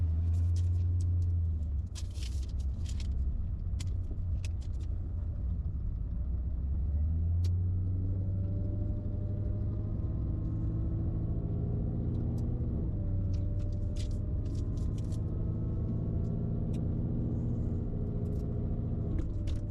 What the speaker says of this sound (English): That was the worst pass this car has ever made.